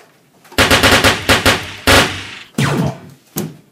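Rapid bursts of gunfire during target practice, a fast string of loud close shots followed by several separate single and paired reports, with no talk over them.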